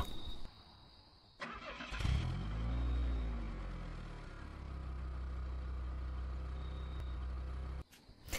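A man imitates a car engine with his voice, starting with a sputtering crank, then a loud, steady low rumble resembling an idling motor for several seconds before stopping abruptly.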